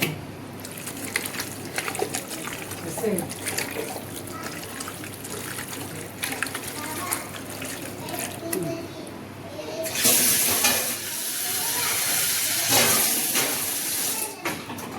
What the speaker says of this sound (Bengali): এখন আমি তেল দিয়ে দিচ্ছি পরিমাণ মতো